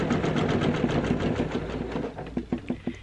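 A sewing machine stitching quilt blocks of penguins, a fast rapid needle chatter that runs steadily, then slows into separate spaced thumps near the end, close and fairly quiet.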